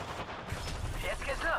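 Gunfire in the Apex Legends arena mode, a rapid crackle of shots running through the clip under busy in-game sound, with bursts of chatter and effects on top.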